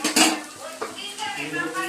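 Metal pots and serving utensils clink and scrape sharply as chicken curry is dished up, a few bright knocks and rattles up close.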